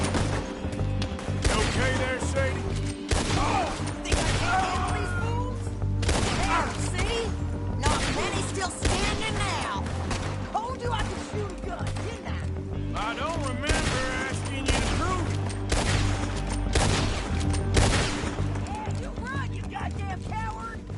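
Gunfire in a video game shootout, dense bursts of shots cracking again and again for the whole stretch, loud and close, with character voices speaking in between.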